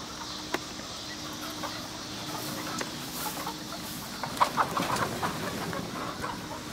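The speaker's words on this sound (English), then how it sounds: "Look at all these chickens." Broiler chickens clucking throughout a huge, crowded chicken house, a steady dense bed of soft murmuring clucks with a few louder calls standing out near the end.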